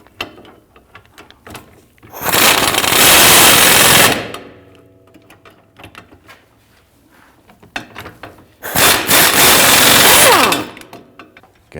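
Power tool whirring in two loud bursts of about two seconds each while tightening rear upper control arm bolts on a 2010-2019 Ford Taurus, with quieter clinks and handling noise between the bursts.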